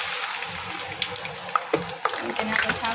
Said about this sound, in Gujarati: તમે જોઈ શકો છો કે આપણું તેલ ગરમ થઈ ગયું છે તો તેની અંદર અહીં આપણે છે ને પપૈયાનો જે શેવડો પાડેલો છે તે નાખી દેશું